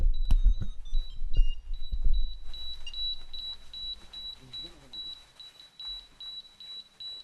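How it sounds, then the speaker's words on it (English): An airbag safety vest beeps with a steady, high electronic tone that repeats throughout. Heavy thumps and rustling come early on, and quieter handling noise follows. "I don't know why it's beeping."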